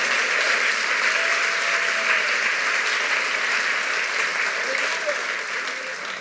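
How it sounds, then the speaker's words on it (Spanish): A church congregation applauds loudly and steadily for about six seconds, a dense, even wash of clapping with faint voices mixed in beneath it. "Dele fuerte aplauso al Señor Jesús."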